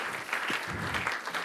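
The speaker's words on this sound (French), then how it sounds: "On l'applaudit." At a green-building awards ceremony, the crowd claps for a winning architect, a brief, fairly quiet patter of applause heard from a distance in a large room.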